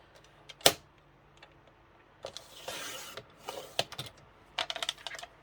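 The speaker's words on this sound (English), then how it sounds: "I'm going to trim down this side just a little, not a lot," A paper trimmer slicing down the side of a handmade card: a sharp click, then a series of short scraping slides and small clicks spaced irregularly, close and quiet.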